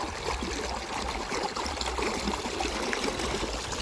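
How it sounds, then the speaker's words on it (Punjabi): Water gushing steadily from underground irrigation pipes on a farm field, a continuous close splashing flow with no pauses. "ਆ ਆਪਣੇ ਅੰਡਰਗਰਾਉਂਡ ਪੈਪਾਂ ਆ ਜਿਨ੍ਹਾਂ ਦੇ ਵਿੱਚੋਂ ਪਾਣੀ ਆ ਰਿਹਾ ਆ"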